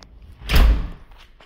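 The front door of a Mediterranean-style house swings closed with one heavy, close thud in the middle, followed by a quiet room.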